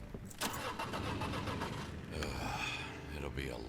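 A car engine cranks and catches in Crime Scene Cleaner, settling into a steady mid-pitched idle, fairly close and quiet, with a voice briefly sounding over it.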